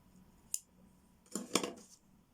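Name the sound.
scissors cutting yarn thread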